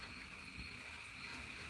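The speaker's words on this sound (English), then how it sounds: "Yeah, crickets and frogs, man." Crickets and frogs fill a Georgia bayou at night with a continuous high, shimmering trill, layered and even, heard alone at moderate loudness with no other noise.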